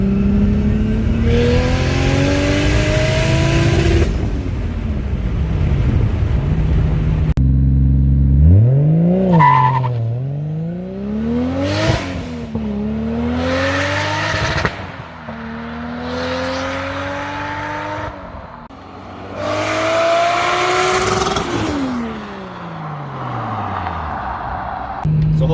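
A manual-swapped 2JZ Lexus GS300 pulls hard in third gear, engine tone climbing steadily through long loud sweeps, with brief dips at shifts and renewed rises, heard from inside the car with heavy road and exhaust roar.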